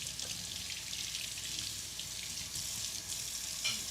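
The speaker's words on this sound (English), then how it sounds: "So we wash the carrots." Carrots are washed under running tap water, a steady close hiss of flowing water with faint splashes, no voices.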